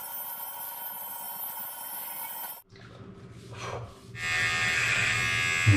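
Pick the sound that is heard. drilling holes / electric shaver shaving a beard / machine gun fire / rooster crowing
electric shaver shaving a beard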